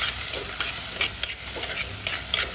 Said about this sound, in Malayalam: എല്ലാം കൂടി നന്നായി ഒന്ന് മിക്സ് ചെയ്ത് കൊടുക്കുക.